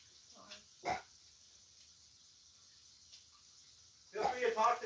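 A dog barks once nearby, then a short, louder flurry of barks follows after a quiet stretch.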